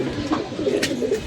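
Grey pigeons coo softly and close by, a few low throaty calls blending together over a short stretch with no voices.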